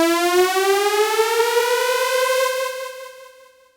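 A synth riser built in Phase Plant climbs steadily in pitch for almost four seconds, its delay mix ramping up from dry to echoing as it goes, bright and loud before fading out at the end, with no voices.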